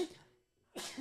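A single sharp sneeze, quick inhale then a loud burst, heard up close in a quiet room.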